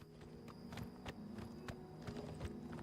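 Steady clip-clop of a black horse's hooves walking in the video game Oblivion Remastered, an even rhythm of soft thuds over a constant background hum of game ambience.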